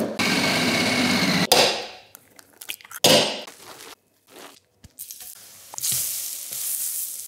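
Mashed potato patties fry in a pan with a loud, continuous broadband sizzle that rises again after each disturbance, broken by brief quiet gaps and occasional knocks.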